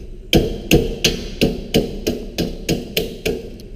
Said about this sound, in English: we're just going to take our trusty sheet metal hammer and we're just going to tap it down until it fits.